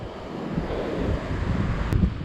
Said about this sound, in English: the wind is pushing the water back on top, so that's a kind of reverse waterfall